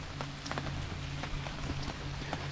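Steady rain patters on surfaces around a rainy campsite, with scattered louder drips popping through a constant soft hiss and a low background hum, no one speaking.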